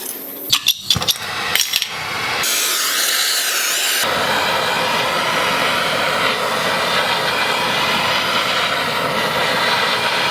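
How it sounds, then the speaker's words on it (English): A small propane torch roars steadily at close range, heating a bearing driver during a Honda CB500F motorcycle wheel bearing replacement, after a few brief clanks at the start. "I'm gonna use a little propane torch here."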